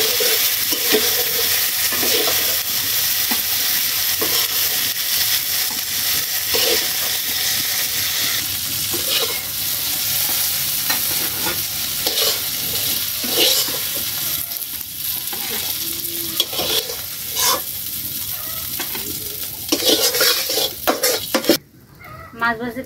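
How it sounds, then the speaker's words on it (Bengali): Pond fish fry in oil in a wok, a loud, close, continuous sizzle with scraping stirs and utensil clatter, dropping away abruptly near the end. "মাছগুলো ভাজি হয়ে গেছে, এবার উঠিয়ে নিব।"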